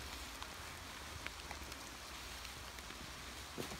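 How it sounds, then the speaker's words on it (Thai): Rain falls steadily through a forest during a mushroom-foraging outing, a soft, continuous hiss with faint scattered drops tapping nearby, fairly quiet and with no voices. "ฝนก็เริ่มตกแล้ววันนี้ไม่ได้เอาเสื้อกันฝนมาด้วย"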